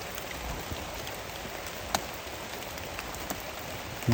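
Steady rain falls across the whole stretch, a dense even hiss with occasional heavier drops tapping nearby.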